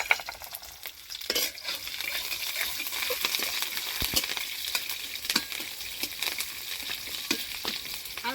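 Fenugreek seeds and green chillies crackle in hot oil, a steady close sizzle punctuated by sharp pops and spatters and occasional utensil scrapes, with no talking.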